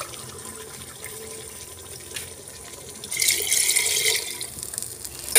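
Water poured into a cooking pot for rice in a village kitchen, a steady splashing fill that swells louder partway through, heard alone at close range.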